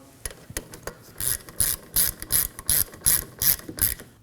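A ratchet snugs the brake hose bolt on the caliper of a 2016-2020 Kia Sorento, giving a few quick clicks and then a steady series of loud, rhythmic ratcheting pulls, close up with no speech.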